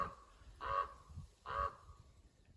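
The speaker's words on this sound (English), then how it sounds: "I think we may have heard the crow mimicking something." A crow gives two loud, harsh caws about a second apart, close by outdoors near mountain mahogany shrubs, with quiet background between calls.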